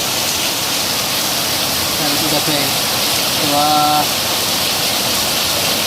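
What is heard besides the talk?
heavy rain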